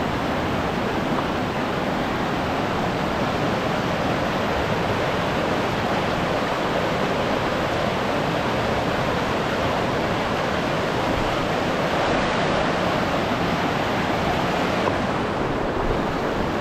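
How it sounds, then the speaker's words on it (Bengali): Strong current of river water at Dawki rushing steadily, a loud, dense, unbroken roar of flowing water with no voices. "আপনারা দেখছেন কত সুন্দর জলটা স্রোতের মতো বেড়ে যাচ্ছে।"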